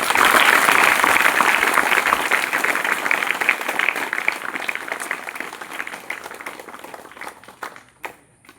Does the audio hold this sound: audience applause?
yes